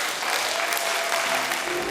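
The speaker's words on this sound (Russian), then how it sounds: "Поклон, цветы и аплодисменты." An audience applauds as the cast bows at the end of a wordless stage play, a brief burst of dense, steady clapping from a full hall.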